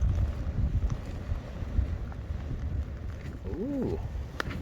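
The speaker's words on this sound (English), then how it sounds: "That wind is still there, as you can see" Steady gusty wind buffets the microphone at a wild camp in Glen Trool, Galloway, Scotland, a continuous low roar with a brief squeaky chirp near the end.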